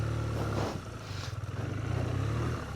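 A BMW R12 G/S motorcycle running off-road, its engine giving a steady low throb that dips briefly, then returns with a pulsing, slightly uneven idle-like rumble, fairly close and loud with no talk over it.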